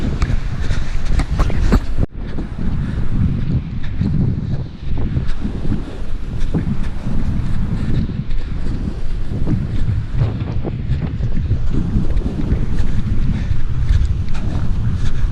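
Strong wind buffeting a microphone outdoors at Coney Island, a loud, continuous roaring rumble with gusty surges and a brief dropout early on, no voices.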